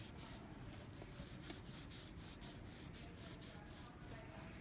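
Rag rubbing Auto-Sol polish onto a chrome towing mirror, a faint, steady scrubbing with light rhythmic strokes, quiet and close, with no talk.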